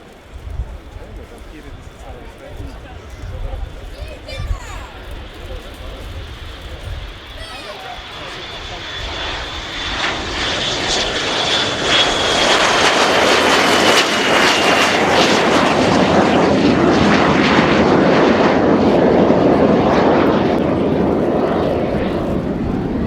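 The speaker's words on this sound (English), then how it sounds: "2 de Havilland Vampires." A pair of de Havilland Vampire jet fighters, an FB.6 and a T.55, fly a display at RIAT, their jet roar swelling from a distant whine into a loud, sustained rush as they pass overhead.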